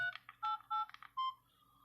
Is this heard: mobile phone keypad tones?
yes